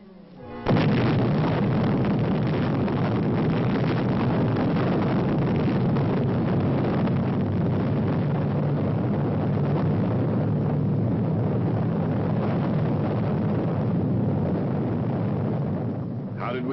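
A massive, sustained roaring rumble fills the whole stretch, dense and loud, like a huge blast echoing without letup.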